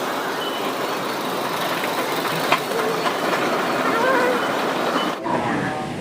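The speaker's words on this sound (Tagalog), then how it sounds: "The train to Chunwan is arriving." A train pulls into a station with a steady rolling rumble and faint rail clatter, while a background station announcement and voices carry over the noise.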